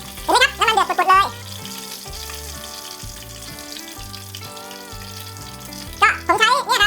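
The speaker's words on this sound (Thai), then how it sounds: "นี่เห็นไหมครับน้ำมันเดือดปุดๆเลย" Pork skin for crispy pork fries in oil boiling up in a pot over a strainer rack, a steady close bubbling sizzle under music, with brief speech at the start and end.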